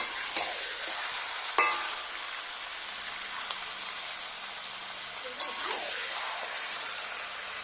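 Chicken frying in spice masala and being stirred in a pan: a broad, hissing sizzle with a few sharp clinks of the utensil against the pan, fairly close and steady.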